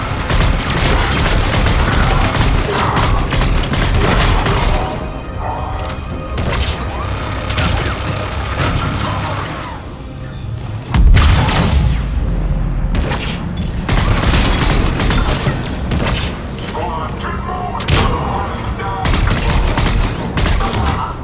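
Sustained turret gunfire in Mass Effect 3, dense loud bursts of rapid shots and booms that roll on almost without break, with a brief lull midway, amid battle noise.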